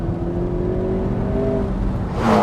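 A very light, carbon-fiber-bodied McLaren 650S sports car pulls hard out of a corner, its engine droning loud and close in a steady, slowly climbing note that breaks into a louder rush at the end.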